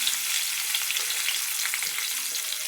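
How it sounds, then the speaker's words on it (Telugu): Onion and green chilli frying in oil, a steady close sizzle with faint crackles throughout, no voices. "మంచిగా వేయించుకోవాలి దీన్ని. నూనెలో బాగా ఫ్రై కావాలి."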